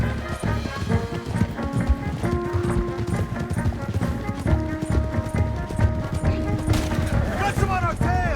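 Horses gallop in a Red Dead Redemption 2 escape scene, steady clip-clop of hooves under a loud game soundtrack with music, shouting voices and occasional gunfire.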